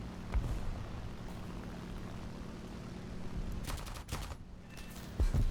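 Rattling machine-gun bursts from a Japanese plane in War Thunder crackle over a steady aircraft engine drone, with a sharper cluster of shots near the end.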